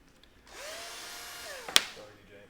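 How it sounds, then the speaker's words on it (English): A power drill runs for about a second, a steady whine rising and then winding down, ending with a sharp click, fairly close by in a workshop room. "Wait for Jeremy to finish drilling"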